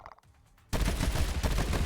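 Rapid gunfire bursts erupt from the twin-stick shooter DreadHunter, a dense, loud crackle of shots filling the second half after a quiet start.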